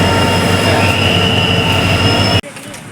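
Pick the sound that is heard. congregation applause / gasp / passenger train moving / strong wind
passenger train moving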